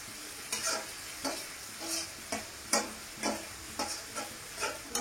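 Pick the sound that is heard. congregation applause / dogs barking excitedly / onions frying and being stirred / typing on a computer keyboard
onions frying and being stirred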